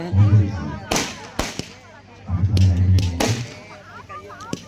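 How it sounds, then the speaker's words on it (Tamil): Firecrackers set off at a village family-deity temple festival once the ritual possession dance ends: a few sharp, separate bangs over a steady background of voices and festival noise. "ஃபைனலாக பட்டாசு போட்டாங்க"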